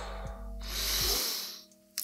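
Deep, slow breathing: a long airy exhale swelling and fading, heard close and clear over a low background hum.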